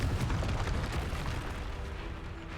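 Confringo explosive spell blast in the Hogwarts Legacy video game: a loud, sustained rumbling burst of broadband noise that stays dense for the whole stretch, easing only slightly toward the end, with no voices.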